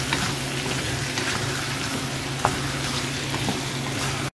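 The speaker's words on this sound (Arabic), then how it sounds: "وهنقلب البطاطس كويس" Potatoes sizzle and fry in a pan with a constant crackling hiss, while occasional scraping knocks mark stirring.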